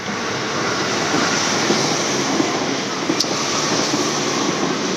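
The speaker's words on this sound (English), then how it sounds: "Sorry, another train, but I'll try to talk." Broadband rumble of a passing train in Tokyo, steady and loud throughout with no talking.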